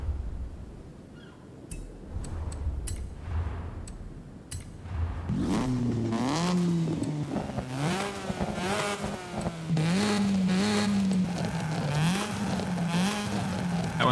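A Nissan Z sports car engine in Forza Horizon 5 revs up sharply and holds a rising, falling whine, loud and close, after a few seconds of quieter clicking and rumble.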